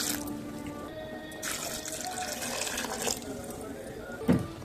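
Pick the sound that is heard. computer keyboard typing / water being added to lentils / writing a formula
water being added to lentils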